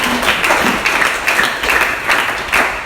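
A church congregation claps loudly and continuously in rhythmic bursts, with cheering mixed in, close and full for the whole stretch.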